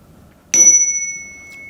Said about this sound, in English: we ask them to ring the bell.